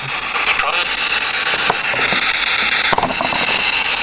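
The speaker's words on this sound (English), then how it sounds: "you're getting a lot of radio interference" Dense radio interference static from a P-SB7 spirit box near a radio tower, a steady loud hiss with faint fragments of broadcast voices sweeping through and a brief click near the end.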